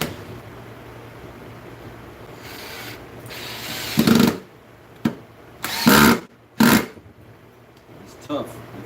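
A power drill pre-drills into a butcher block benchtop in several short, loud bursts of whirring spaced a second or so apart, with quiet handling noise in between.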